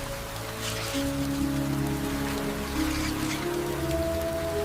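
Rain weakening over a mangrove island, soft patter of drops on leaves and water under a low steady hum, fairly faint and continuous with no voices.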